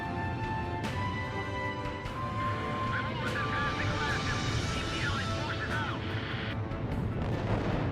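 Anti-aircraft flak guns fire in the Ace Combat Zero video game, a dense, loud, continuous barrage of rapid bursts and booms under a steady jet-engine roar.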